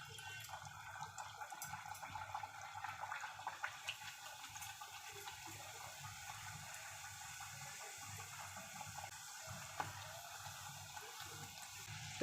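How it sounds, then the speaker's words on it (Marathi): Malvani-style pumpkin vada frying in hot oil, with a steady, dense sizzle and bubbling that runs evenly for the whole stretch without any talk. "तेल गरम झालेलं आहे छानपैकी, त्यामध्ये या प्रकारे असा वडा सोडून घ्यायचा आहे।"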